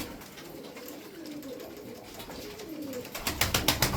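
Tokat game pigeons from a single coop coo in low, rolling calls near the microphone, followed by a burst of rapid flapping or fluttering toward the end.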